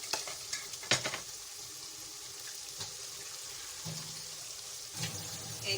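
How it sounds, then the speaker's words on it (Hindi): Potatoes and peas go into minced-meat keema frying in a home kitchen pan, bringing a soft steady sizzle with a few scraping stirs and clinks, faint and close, with no talking. "अब हम इसमें आलू डालेंगे और मटर डालेंगे।"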